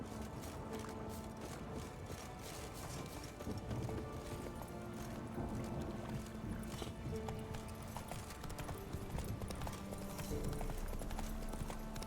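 Horse hooves clip-clopping at a steady trotting pace in The Witcher 3 video game, a continuous rhythmic patter of close hoofbeats with faint whinnies and game ambience behind.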